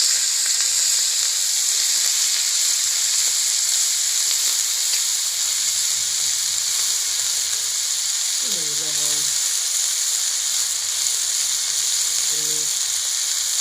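Hot cooking oil sizzles in a pan for egg curry, a steady loud hiss running throughout, with brief voice sounds rising near the end.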